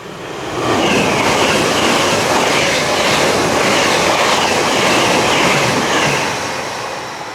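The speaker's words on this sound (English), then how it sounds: "Oh, train. Choo choo." A train rumbles past up close at East Linton station on a windy day, a loud sustained roar with rattling wheels and faint clatter, swelling in and easing off at the end.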